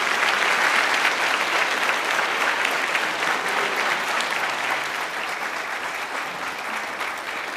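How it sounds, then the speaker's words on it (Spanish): A studio audience applauds a guest on a Mexican television program, steady dense clapping that stays loud throughout and eases only slightly toward the end, with no talking over it. "Un aplauso, por favor, para él."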